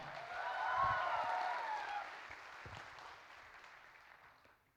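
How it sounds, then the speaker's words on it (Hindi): Applause from an audience at a Tripura cultural programme in Bangalore, swelling quickly to a peak and then thinning out gradually over several seconds, with a faint high tone running through the early part. "तालियां"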